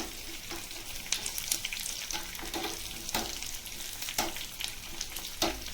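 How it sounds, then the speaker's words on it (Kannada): Garlic and dried red chillies sizzle in hot oil for a tempering, a quiet, continuous frying crackle with a few louder spits and stirring scrapes. No one speaks. "ಸ್ವಲ್ಪ ಬೆಳ್ಳುಳ್ಳಿ, ಒಣಮೆಣಸಿನ್ಕಾಯಿ, ಈಗ ನೋಡಿ ಇದು ಸ್ವಲ್ಪ ಚೆನ್ನಾಗಿ ಫ್ರೈ ಮಾಡ್ಕೊಳ್ಳಿ."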